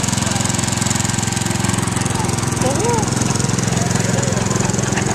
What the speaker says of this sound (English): 1974 Power King, owned by Bauman.